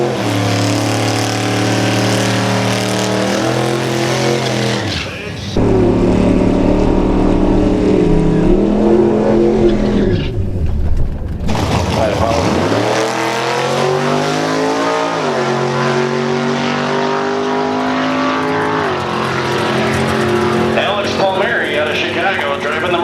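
A modified Mercedes E55 AMG runs the quarter mile at a drag strip, its engine droning loud and steady with rising and falling pitch through gear changes and a brief lull midway, while voices talk over it.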